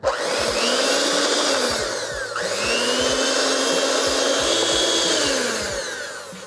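An electric mixer whirs steadily and close at low speed, beating dairy-free tres leches cake batter in a bowl, its motor pitch dipping briefly midway before resuming its continuous drone.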